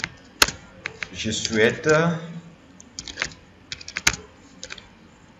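Keys clatter on a computer keyboard while a document is typed in Word, irregular clicks and bursts of keystrokes, close by, with a brief spoken phrase early on.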